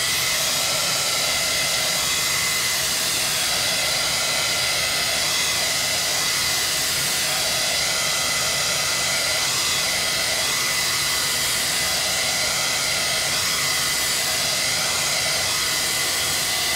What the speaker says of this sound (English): I'm going to hit it with a heat gun a little bit